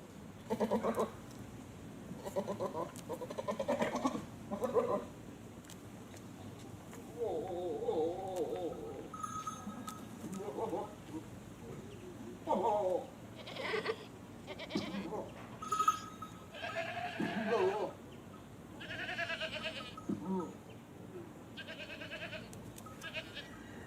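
Goats and their shepherds in rural Yunnan, China, bleating in short repeated calls at moderate distance, mixed with other farm sounds and occasional faint voices.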